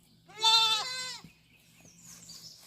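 Meat goats on a farm, horned and unbanded, let out one loud, wavering bleat close by, followed by quieter scattered farmyard noises and a fainter second call.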